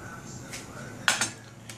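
A cooking pot lid set back on a pot of Algerian chorba frik, a couple of sharp metallic clinks and a light rattle close by, brief and fairly quiet.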